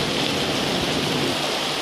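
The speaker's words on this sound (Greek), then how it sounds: "Ευτυχώς το χαλάζι είναι μικρό" Hail pours down during a violent storm in Damasi, a dense, steady roar of pelting ice that fills the whole stretch at constant loudness, with no voices.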